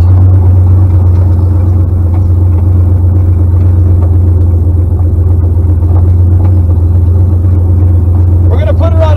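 1990 Ford Mustang with a turbocharged engine of about 700 horsepower driving on the road, heard from inside as a loud, steady low rumble that fills the whole clip.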